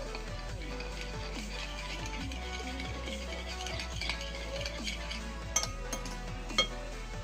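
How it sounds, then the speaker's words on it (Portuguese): A spoon stirs a slime mixture in a bowl, with soft scraping and occasional light clinks against the side, quiet and close, under steady low background hum. "Agora eu vou misturar com a colher."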